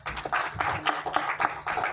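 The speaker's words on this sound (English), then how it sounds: "So, a round of applause for Geeta" A few people clap in brief uneven bursts, a short patter of applause close by with no talking.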